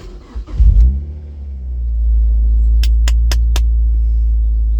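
A Mazda MX-5 Mk3 engine cranks and fires, then settles into a steady deep idle rumble, loud and close, with a few faint clicks over it.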